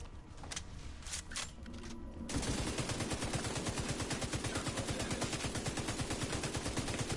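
Sustained rapid automatic gunfire erupts in The Division 2 after a few scattered shots, a loud, even stream of rounds that continues to the end, with no talk.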